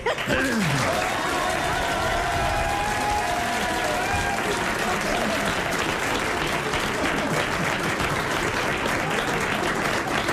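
Loud audience applause on a French radio comedy show, a dense continuous wash of clapping with some laughter mixed in near the start.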